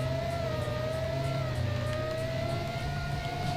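A video game Porsche Carrera GT engine gives a steady, loud drone holding a high pitch, with a slight rise and fall in tone but no breaks.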